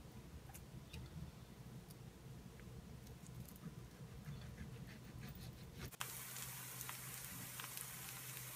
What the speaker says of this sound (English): I added a couple of tablespoons of oil into a pan at a medium heat, and I began the frying process.